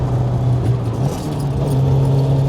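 A Toyota AE86 with a 4AGE engine and six-speed gearbox pulling uphill on a mountain road, a loud steady engine drone rising slightly in pitch, heard from close by.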